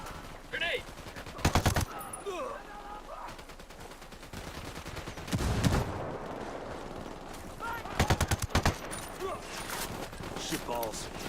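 Bursts of rapid gunfire and a heavier blast in Ghost Recon Wildlands, volleys at a moderate distance recurring in clusters, with voices talking and calling out in between.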